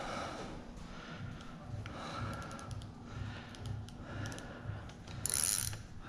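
Fishing reel drag on a crappie house at Buffalo Springs Lake, giving soft rapid clicking and ratcheting as line pulls out, faint and close, with a short brighter burst near the end.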